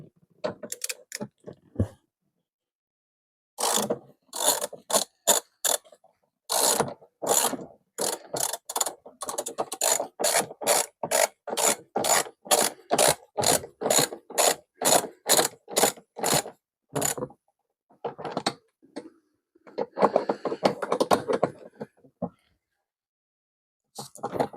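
A hand ratchet works the nuts and bolts off a Rusi 250 Classic motorcycle seat, with rapid, evenly spaced clicks in long bursts, a few short pauses and brief quiet talk between strokes.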